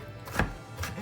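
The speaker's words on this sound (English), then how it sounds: "So I'm just chopping this ginger up" A knife chops fresh ginger on a cutting board, two quick close knocks about half a second apart, faint and sharp with no talking.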